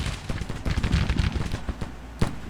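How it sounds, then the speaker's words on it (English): Federal artillery fires in the Civil War strategy game Grand Tactician, a dense, rumbling barrage of overlapping booms and crackling reports that builds and then thins out, ending with one sharper late blast. "There's a federal artillery."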